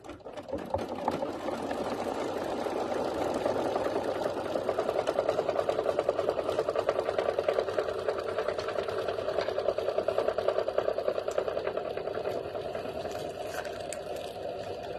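An embroidery sewing machine stitches a strap hole backing tack-down for a belt bag, a close, steady rapid needle clatter with a motor hum that runs the whole time and eases slightly near the end.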